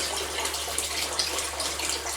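Hands being washed under a running tap in a home kitchen while cooking a chicken dinner, a steady close hiss of flowing water with light splashing and no talk.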